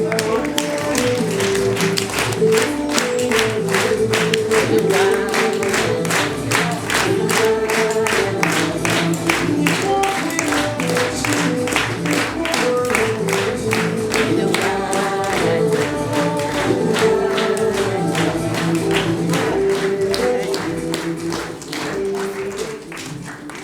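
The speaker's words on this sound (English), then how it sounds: "Clap your hands." An audience at an early childhood school symposium claps in steady rhythmic time for over twenty seconds, a sustained beat of many hands over background music, fading slightly at the end.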